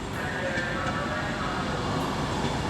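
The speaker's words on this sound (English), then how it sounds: "now coming in is going to be the 1924 Avanti West Coast service from Glasgow Central to London Euston" Avanti West Coast passenger service from Glasgow Central to London Euston rolling into Stafford station on the West Coast Main Line, a steady broadband rumble of wheels and motors close by with faint station voices underneath.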